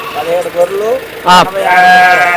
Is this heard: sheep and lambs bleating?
yes